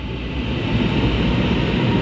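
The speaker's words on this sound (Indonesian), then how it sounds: "nih keretanya udah sampai nih" An LRT train pulling into a station on the Kuala Lumpur to KLIA route, a steady, loud broadband rumble and rush of the approaching cars that swells slightly toward the end, with no talking.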